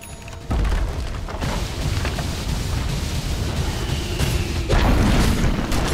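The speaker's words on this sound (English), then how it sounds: "Dire's middle tower has fallen." A Dire middle tower collapses in Dota 2: a heavy booming crash opens into a sustained rumbling roar, with a second loud impact near the end, and no talk.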